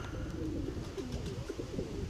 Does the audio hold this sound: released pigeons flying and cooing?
yes